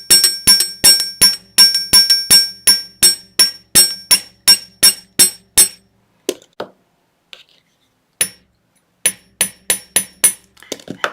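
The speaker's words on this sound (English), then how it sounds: "I'll just hammer this bit." Metal money tree pendant being hammered at close range: rapid even series of bright, ringing metallic taps, then a pause with a few scattered strikes before another quick run, with no talking.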